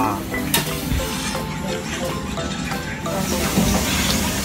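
Teppanyaki cooking on an iron griddle in a restaurant, continuous sizzling with metal spatulas clinking and scraping, busy room noise and voices mixed in.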